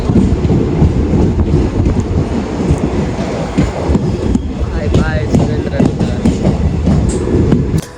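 A train running on rails on the way to Kamunsha Wali, a loud steady rumble with rhythmic clatter of wheels over track joints throughout, a passing squeal of wheels or brakes briefly audible midway.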